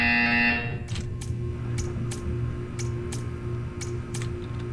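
A loud electronic buzzer from the video game Portal 2 sounds briefly at the start, followed by a series of sharp ticking clicks at irregular intervals.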